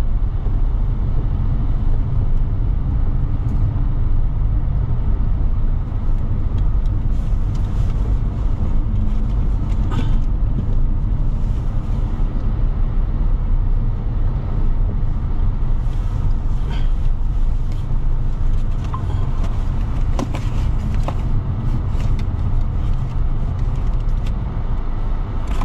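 A steady wash of heavy car traffic fills a busy street in Ibiza, with a constant low rumble of engines and tyres and occasional passing vehicles rising above it, close and continuous.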